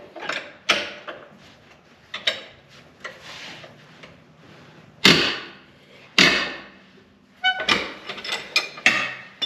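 A breaker bar strains against a tight bolt while rear long arms are installed on a Jeep WJ, giving several sharp metallic clanks and creaks with quiet gaps between, close and fairly loud.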